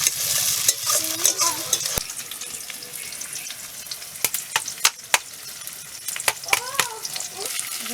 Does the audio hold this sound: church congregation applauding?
no